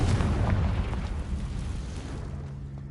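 A Confringo blasting curse explodes in Hogwarts Legacy, a loud rumbling boom that rolls on and slowly fades over a few seconds.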